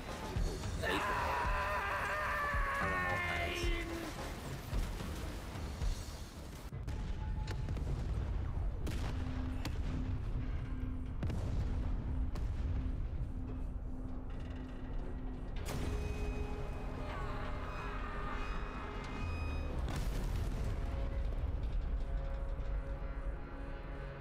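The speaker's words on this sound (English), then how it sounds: "The tank's exploding!" A tank blowing up in a World War-themed video game boss battle against Hitler's machine, a sustained roar of explosions and gunfire bursts across the clip, with a player shouting over it.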